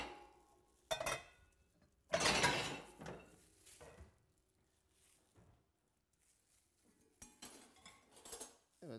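Intermittent knocks and clatter of a knife chopping vegetables on a board, with utensils against dishes, a few louder bursts separated by quiet stretches.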